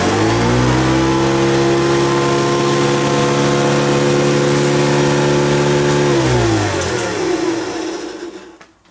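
A Hoover U4371 Convertible upright vacuum cleaner runs with a steady motor whine that holds for about six seconds, then drops in pitch and dies away as it is switched off.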